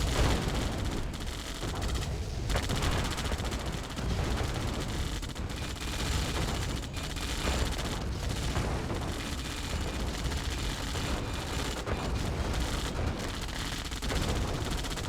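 French cannon firing in Red Alert 2: Yuri's Revenge, heavy booms mixed into a continuous loud wash of gunfire and explosions from a busy battle, with no voices.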